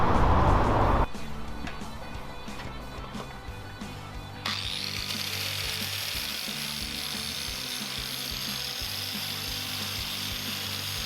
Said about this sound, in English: I'll pop some holes in, bolt it to the seat